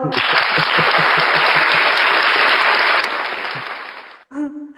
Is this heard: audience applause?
yes